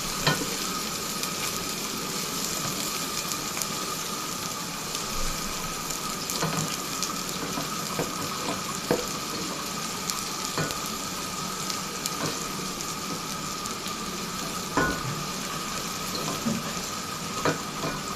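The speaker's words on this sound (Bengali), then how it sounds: "এখন আমি পেঁয়াজ দিয়ে দিব।" Onions sizzle in oil with cardamom and cinnamon, a steady close frying hiss broken by occasional stirring scrapes and taps from a utensil in the pan.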